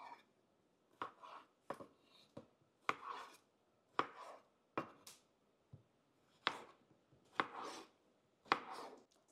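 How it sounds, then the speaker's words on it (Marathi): A knife chops tomatoes on a board for a gravy, making a series of sharp, irregular thuds that come close and distinct, each followed by a brief pause, with no talking. "आपण आता ग्रेव्ही साठी सर्वप्रथम टमाटे कट करून घेऊ"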